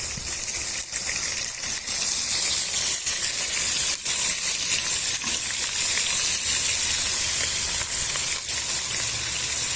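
Garlic and ginger fry in hot ghee for a dhaba-style chicken karahi, giving a loud, steady, close hissing sizzle with a few brief clatters, and no speech.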